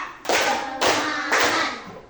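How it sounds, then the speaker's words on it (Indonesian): Three short bursts of group clapping in a steady rhythm, each a brief crisp flurry of many hands, fairly close and loud. "Tepuk satu. Tepuk dua. Tepuk tiga."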